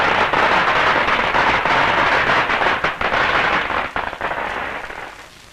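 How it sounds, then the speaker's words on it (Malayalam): Firecrackers bursting in a dense, loud crackling barrage that rattles on continuously before thinning and fading away toward the end, with no voices. "പൊട്ടട്ടെ പടക്കം പൊട്ടട്ടെ."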